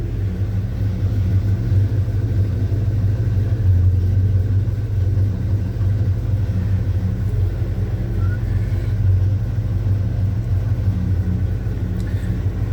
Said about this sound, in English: Man, this thing started up quick.